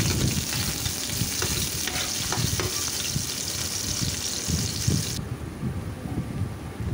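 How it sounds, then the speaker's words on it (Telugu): Green chillies and onion pieces frying in hot oil for a tomato chicken curry, a dense steady sizzle with the scrape and clink of a ladle stirring, close and loud, the sizzle easing near the end. "ఇప్పుడు ఇవి బాగా ఫ్రై అయ్యే విధంగా మనం గరిటతో కలుపుకుందామండి"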